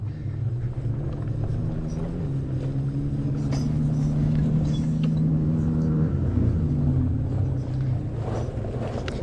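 Electric Christini ATV creeping slowly over terrain near Moab, Utah, its steady low motor rumble and drivetrain whir continuous and fairly loud throughout, with a faint pitch shift partway as throttle eases.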